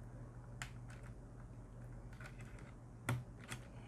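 Mechanical keyboard keycaps being worked loose and pried off, giving a handful of sharp, close plastic clicks and snaps at irregular intervals over a quiet background, with no talking.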